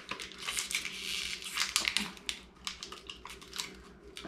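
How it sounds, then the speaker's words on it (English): Plastic packaging is snapped and torn off a spray bottle in a bathroom, giving faint, close crinkling and sharp little cracks in an irregular burst with no speech. "I have to break the plastic on it to get the spray bottle open"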